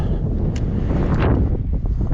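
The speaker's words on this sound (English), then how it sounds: "And it's windy." Strong wind buffeting a microphone at a high-altitude mountain pass around 4,800 metres on the road to Paso Jama, a steady loud roar with gusty swells throughout.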